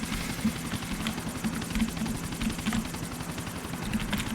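A helicopter in the video game GTA: The Ballad of Gay Tony flies with a steady rapid rotor thump and engine whine, continuous and moderately loud without speech.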